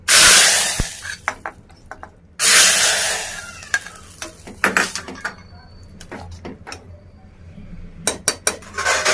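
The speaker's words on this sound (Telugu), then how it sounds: "ఇప్పుడు ఈ పోపు ఇందులో పోసేసి కలుపుకొని కాసేపు ఉడకాలి" A hot sizzling burst as spice tempering is poured into a pan of bottle gourd and chana dal curry, followed by clinking spoon-against-pot stirring, then another sizzle and more scraping clatter.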